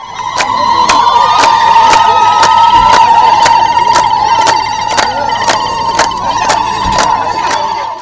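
Women ululating and cheering at a gathering in Celiyo village, Rabaso centre, Doror district: a sustained, loud, steady high trill held near one pitch throughout, with regular rhythmic claps or beats under it.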